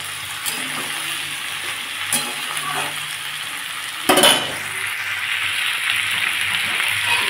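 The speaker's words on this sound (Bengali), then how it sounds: "এবার পেঁয়াজ কলিগুলোও দিয়ে দেবো" Potatoes and onion stalks fry in a pan with a steady close sizzle, broken by a few spatula scrapes and a louder burst of crackling as more goes into the hot oil.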